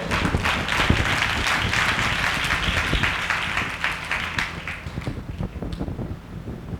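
A church congregation claps together at a Sunday service, a dense, steady wash of applause that tapers off toward the end.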